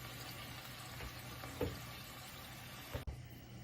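Shrimp and garlic cloves sizzle steadily in a pan, a low continuous frying hiss broken by a couple of soft clinks and a brief clatter near the end.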